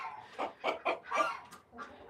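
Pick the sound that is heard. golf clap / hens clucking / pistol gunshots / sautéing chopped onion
hens clucking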